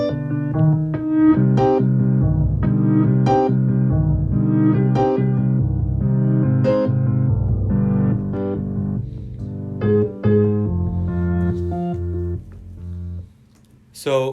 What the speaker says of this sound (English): It basically shifts that audio file in different octaves and reverse,